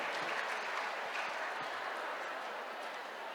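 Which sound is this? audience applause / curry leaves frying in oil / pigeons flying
audience applause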